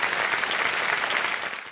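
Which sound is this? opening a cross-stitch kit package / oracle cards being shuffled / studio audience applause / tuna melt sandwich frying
studio audience applause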